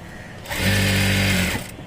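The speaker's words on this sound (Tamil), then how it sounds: "அதனால் மேல் தையல் அடிச்சுக்கிறேன்." A sewing machine runs a steady burst of top stitching along a nighty being altered, starting and stopping cleanly with a loud, even whir of about one second and no talking.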